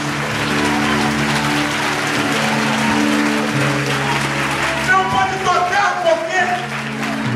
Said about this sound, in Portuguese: Oh, aplauda mais forte a Deus